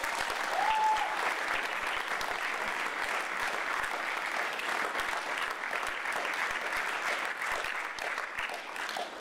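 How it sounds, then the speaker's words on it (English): A large audience at a high school graduation ceremony claps in sustained, dense applause, loud and even throughout without a break. "give them a well-received round of applause"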